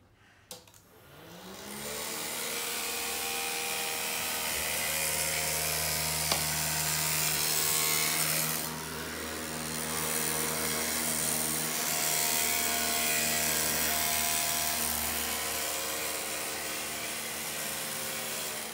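A hovercraft model's motor spins up from quiet into a steady, loud whirring drone that holds for most of the run, with a brief dip partway through and no talking.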